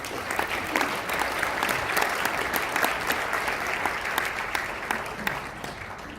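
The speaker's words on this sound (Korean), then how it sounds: "여러분 큰 박수로 맞이해 주십시오" An audience at a US-ROK Freedom Friendship Night in Korea applauds to welcome a retired general to the podium, a loud, sustained wash of many clapping hands that stays even from start to finish.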